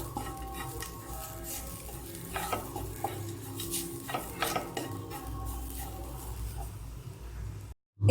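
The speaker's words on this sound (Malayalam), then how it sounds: "പാനിലിട്ട് ചെറുതായിട്ടൊന്ന് വറുത്തെടുക്കാം." Masala sautéing in a pan for a Kerala beef roast, a steady soft sizzle with repeated scraping and stirring strokes of a utensil against the pan, close and continuous, with no talk.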